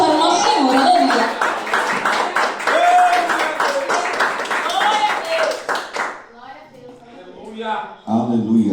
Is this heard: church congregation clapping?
yes